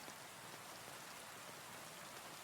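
Steady rain falls in a calm night setting, a dense, even hiss of drops pattering on a surface, soft and continuous with no voices.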